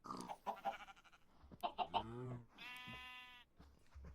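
Minecraft sheep bleating in the video game, several wavering, nasal bleats in a row with short gaps, close and clear, with no talking.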